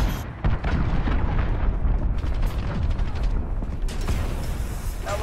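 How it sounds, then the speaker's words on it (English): A cruise missile killstreak striking in the Call of Duty Modern Warfare beta: loud, rumbling explosions and booming blasts with crackling debris and mechanical clatter, dense and continuous for several seconds, no speech. "Allied cruise missile launched"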